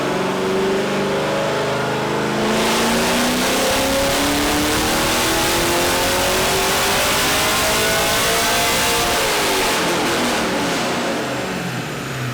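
A custom-exhausted Camaro revs hard and close, its loud engine note climbing steadily in pitch over about nine seconds before easing off, with no voices over it.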